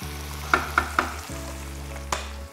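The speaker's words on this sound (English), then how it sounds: "we add our pasta into the dish, stir it through, coating all the oil all over the pasta" Pasta stirred through garlic mussels and olive oil in a pan, with three sharp utensil clacks early on and a fourth later over a low steady hum, no voices.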